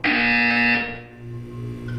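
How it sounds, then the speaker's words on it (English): A loud electronic buzzer from the video game Portal 2 blares as a steady harsh tone, then fades and drops lower before a fainter buzzing hum resumes, with no talking. "When you hear the buzzer, look down at the floor."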